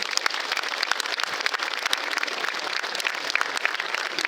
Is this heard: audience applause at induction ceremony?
yes